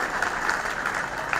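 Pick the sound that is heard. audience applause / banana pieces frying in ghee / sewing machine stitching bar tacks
audience applause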